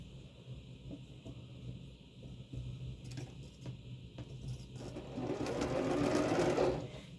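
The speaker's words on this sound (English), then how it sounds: "And we're going to stitch these together." A sewing machine runs in short bursts, then in a longer louder run near the end, stitching quilted pillow fabric at close range.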